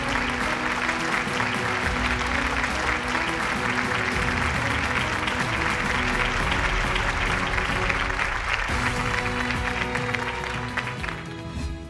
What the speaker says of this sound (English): Let's have a healthy round of applause